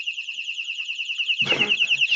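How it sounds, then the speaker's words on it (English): A shrill electronic alarm used to call dogs pulses steadily and loudly, with a brief burst of noise partway through. "I call my dogs with the alarm"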